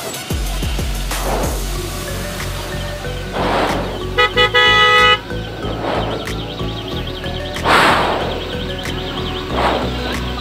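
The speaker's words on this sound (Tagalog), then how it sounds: "Traffic." Street traffic on a busy road at New Year's, with repeated car horn toots and honks sounding every couple of seconds over a steady engine rumble, some loud and close.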